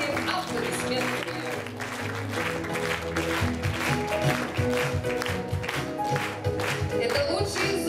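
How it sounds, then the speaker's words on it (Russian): Steady applause from an audience over music at the opening ceremony of a teachers' competition, continuous throughout with no break. "давайте будем тоже сопровождать им аплодисменты."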